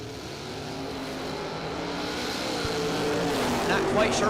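Chevrolet drag racers, one an S10, launching and accelerating down the strip at a Coal Rush 20s warm-up event, a broad engine roar that builds steadily in loudness toward the end, heard from a distance amid crowd and track noise.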